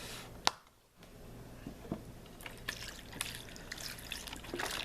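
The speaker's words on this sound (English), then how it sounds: "the organic chicken broth that I bought, so I'm just going to pour it all in here" Chicken broth pours and trickles into a crockpot after a sharp clink, a splashy, gurgling stream that builds and continues nearby.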